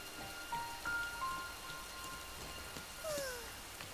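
Steady rain falls outdoors as a continuous, fairly soft patter, with a few faint tonal sounds drifting through and no talking.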